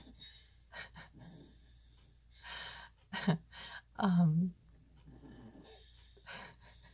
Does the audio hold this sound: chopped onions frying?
no